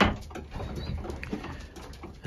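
Racing pigeons in a loft, soft cooing and shuffling close by with light pattering and scraping, a busy low murmur throughout.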